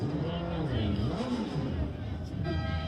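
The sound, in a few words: motorcycle club burning rubber at parade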